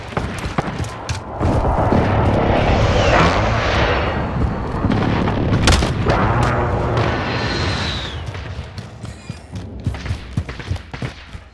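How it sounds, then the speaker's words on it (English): Precision airstrike explosions in Call of Duty: Modern Warfare, heavy booming blasts rolling one after another across several seconds, loud and close, with scattered gunfire and sharp game effects around them. "friendly precision airstrike inbound"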